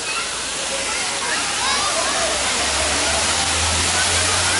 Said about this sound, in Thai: นี่ครับน้ำตกไซโยกนะฮะไซโยกน้อยครับจังหวัดกาญจนบุรี